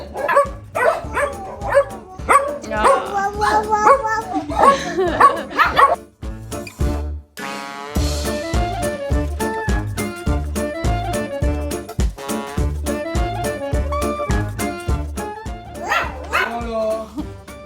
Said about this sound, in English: Baby dogs.